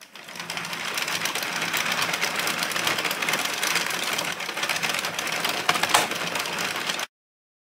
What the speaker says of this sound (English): So the big click noise when we get to near the black needles is clicking over another row.